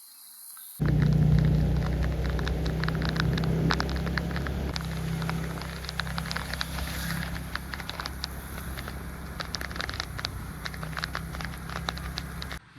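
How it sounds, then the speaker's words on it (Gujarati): Heavy monsoon rain at a roadside stop on a hilly route in Gujarat, a loud, steady broadband hiss and patter with low rumble that starts abruptly and continues without a break, no voices heard. "વરસાદ એટલો ચાલુ થઈ ગયેલો છે કે ઊભા રહ્યા અને જુઓ તમે"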